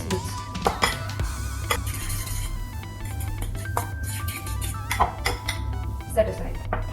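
Marinating chicken strips are stirred in a bowl, producing repeated close clinks and scrapes of a utensil against the dish under a low steady hum, with someone talking over it.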